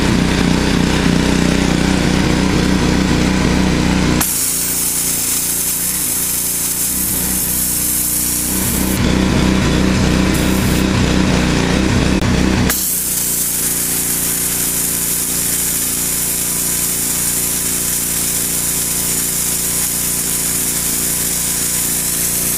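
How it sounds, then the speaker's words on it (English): A pressure washer running with a red tip nozzle fitted gives a loud, steady mechanical drone. The engine-like roar holds level throughout, with short shifts in tone partway through as the spray changes. "hopefully you can hear me from the sound of the pressure washer. Got it running over there."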